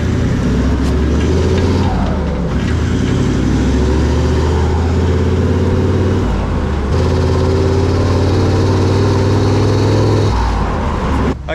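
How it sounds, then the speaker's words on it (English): Toyota VDJ79 Land Cruiser V8 with a Redback DPF exhaust, a loud, steady low rumble heard from the driving seat, with a constant deep drone and slight shifts in pitch as it cruises. "But a nice subtle rumble you hear, knowing you're driving a V8"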